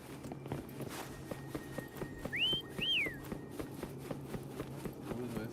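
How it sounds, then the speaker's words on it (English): Two short rising-then-falling whistles in a video game, used to call a companion, heard over steady footsteps at moderate level. "Try whistling."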